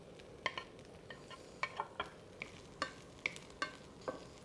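Dried shrimps stir-fry in oil rendered from Chinese sausage for a Cantonese sticky rice stir fry, with a faint hiss under a dozen sharp, irregular spatula scrapes and clicks against the pan.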